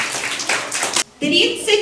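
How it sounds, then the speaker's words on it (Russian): Applause at a children's mental arithmetic olympiad, a short burst of clapping mixed with voices that cuts off briefly and then gives way to someone speaking. "Аплодисменты."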